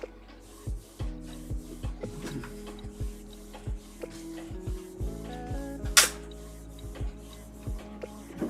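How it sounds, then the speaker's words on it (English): A printer runs through a print job nearby, with repeated short mechanical thumps and feed clicks over a steady low motor hum, plus one brief sharp hiss partway through. "The printer does not sound good."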